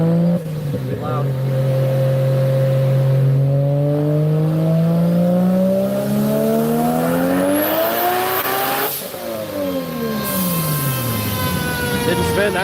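A car launches and accelerates hard, its engine note climbing steadily through the gears with loud rising whine, a brief shift break, then pulling away again, close and prominent throughout.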